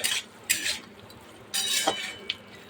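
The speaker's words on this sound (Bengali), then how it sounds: "এই যে মশলা দিয়ে কষাচ্ছি।" Paneer curry being stirred and sautéed with ground spices in a pan, with bursts of scraping and clinking from the utensil against the pot over a faint background sizzle.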